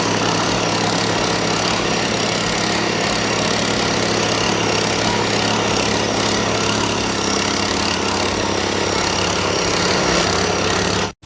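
A small Sraja power weeder engine runs steadily and loudly throughout, a continuous mower-like drone that holds even before cutting off abruptly at the end, with no talk over it.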